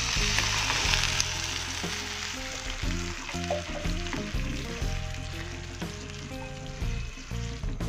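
Water poured into a hot pan of spice paste for Indomie with tempe sets off a loud, dense sizzle that holds steady and close, with a few faint knocks underneath and no talking.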